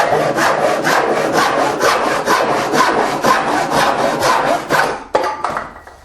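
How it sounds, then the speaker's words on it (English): A hand saw cuts dovetails in a wooden board clamped in a workbench vise, with about a dozen quick, even rasping strokes close by before it stops. "Sawing dovetails."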